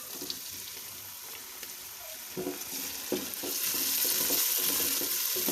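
Tomatoes dropped into a pan of frying ginger and garlic give a steady, close sizzle with stirring scrapes that grows louder and denser toward the end, with no voices.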